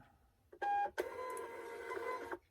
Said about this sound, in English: Printer right.